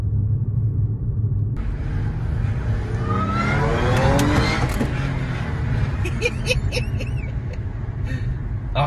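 An Audi S4 accelerating hard from inside the cabin, with a loud, deep engine rumble that climbs in pitch as it pulls through the gears, close and sustained.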